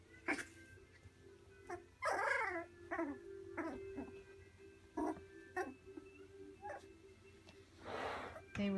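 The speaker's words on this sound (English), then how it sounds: "That's a really big bark." A three-week-old puppy lets out several short, sharp barks and yelps at irregular intervals, fairly close, mixed with soft whimpers while someone talks gently over them.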